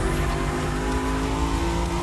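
A race car engine in The Crew Motorfest video game roars steadily at high revs, loud and close, with a constant whining pitch and no talking.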